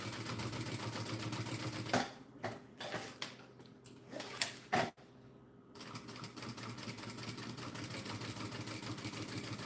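Sewing machine stitching clear vinyl for a bag, a steady buzzing run that stops for a few seconds of clicks and handling sounds, then resumes its continuous hum.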